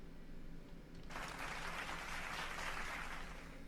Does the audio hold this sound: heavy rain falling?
no